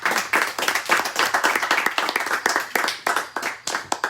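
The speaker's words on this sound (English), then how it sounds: "Shall we give applause to laughter?" A small audience claps in a brisk, uneven patter, individual hand claps distinct and close, sustained for a few seconds without talking.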